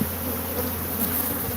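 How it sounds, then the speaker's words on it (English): Africanized killer bees buzz inside a washer/dryer, a dense continuous droning hum, close and steady, with no voices. "So all of the bees are Africanized."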